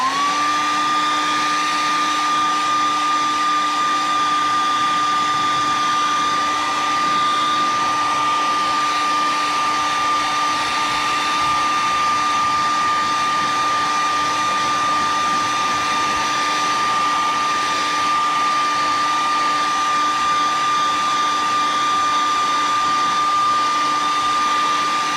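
A hair dryer blows on a freshly painted fishing lure, giving a loud, steady whooshing roar with a constant high motor whine that holds unchanged for the whole stretch, close by, with no talking.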